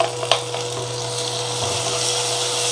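Tomato being sautéed with onions in a pan for a spinach (keerai) stir-fry, giving a steady close frying sizzle with a few brief stirring clinks near the start, no talking.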